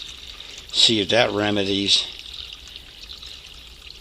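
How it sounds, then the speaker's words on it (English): Water pours in a steady stream, trickling on as a person speaks briefly over it. "Pour some more water in there."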